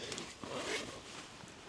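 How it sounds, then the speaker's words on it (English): A tent's T-shaped zipper door drawn open in one quick, close zipping pull lasting under two seconds, fairly quiet, with no voices. "T-zipper door, so you can open this up fully"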